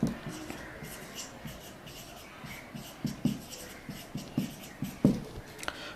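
Writing during a physics lecture: soft, scratchy strokes and taps come in short rhythmic bursts, faint and close, with a quiet room tone between them.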